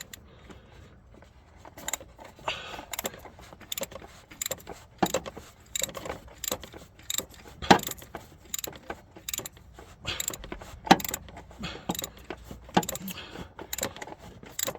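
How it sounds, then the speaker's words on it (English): A wrench ratchets in repeated sharp clicks and metallic clatters on the oil pressure sending unit of a Hummer H2 with a 6.2L GM LS engine, in uneven bursts close by with no talk. "And start wrenching."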